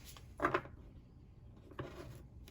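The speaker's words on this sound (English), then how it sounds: "Let's do one more shuffle." Soft papery rustles and riffling bursts of oracle cards being shuffled, two short quiet flurries close by, with no voices.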